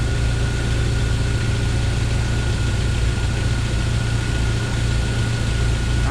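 A 1997 Jeep Wrangler 2.5L four-cylinder, fresh from a timing chain repair, idles steadily nearby with a smooth low rumble and even hum, no knocks or loose rattles, running on alone without any voices.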